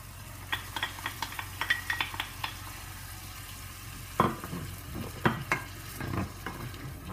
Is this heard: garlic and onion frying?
yes